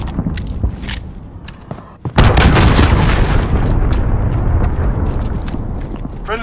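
In a Call of Duty: Modern Warfare 2019 team deathmatch match, a cruise missile strike hits with a sudden loud booming blast that rolls into sustained heavy rumble and debris noise amid scattered gunfire.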